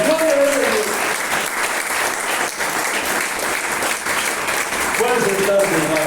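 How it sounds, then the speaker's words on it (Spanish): A church congregation applauds loudly in a steady, sustained clapping wash lasting several seconds, with a voice briefly audible over it near the start and end. "Den un aplauso fuerte al Señor"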